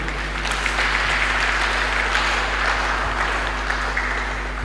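An audience applauds members of a conference panel at an international colloquium, dense steady clapping that fills the room evenly from start to end, with no voices over it.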